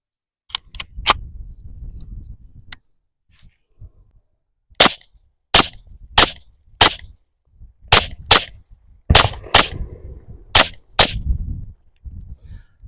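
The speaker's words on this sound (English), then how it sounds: "it's always fun to shoot suppressed" Suppressed Ruger LC Charger pistol in 5.7x28 fires a string of about fourteen sharp, loud shots, first a quick triple, then pairs and singles at an uneven pace, with short pauses between and no talking.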